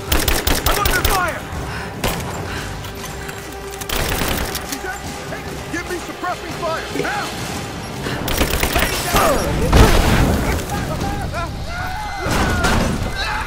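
Gunfire in the video game Rise of the Tomb Raider, bursts of rapid shots and booms in repeated waves, loud and close, with voices shouting over the shooting.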